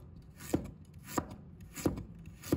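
A knife slices peeled ginger on a cutting board, four evenly spaced, soft thuds about half a second apart with faint rubbing between them.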